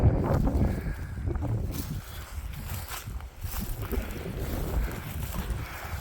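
Gusty wind buffets the microphone on a wet, blustery Peak District moor near Flask Edge, a steady broadband roar with low rumbling surges throughout and no one talking.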